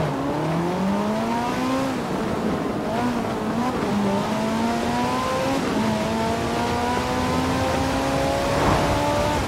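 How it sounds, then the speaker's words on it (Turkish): A car in the Forza Horizon video game starts and revs hard, its engine pitch climbing in repeated rising sweeps as it runs through the gears, loud and close, with no talk. "İlk marş, ilk gazlayış."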